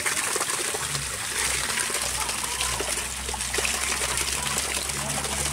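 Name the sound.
small mountain spring trickling water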